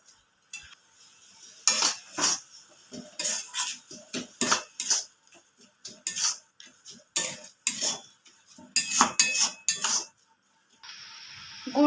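Grated coconut being stirred into melted palm jaggery in a metal pan, with a spoon scraping and clinking in repeated close strokes, then a short steady hiss at the end.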